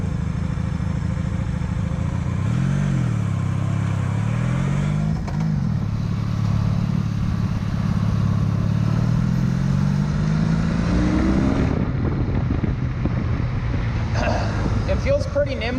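A 1997 Honda Magna 750 cruiser motorcycle is ridden, its engine droning and rising and falling through revs under constant wind rush, with someone talking over it.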